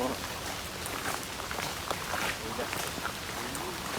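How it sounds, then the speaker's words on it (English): Heavy rain falling outdoors during a walk, a dense steady hiss with scattered drops and patters, continuous throughout at moderate level. "It's raining heavily."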